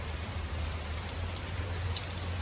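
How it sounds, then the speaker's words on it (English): Rain falling outside a house's front yard on a wet Monday evening, a steady, soft, even patter with a low rumble underneath and no voices. "After I finished all the raking up out of the front of the yard, it's like raining."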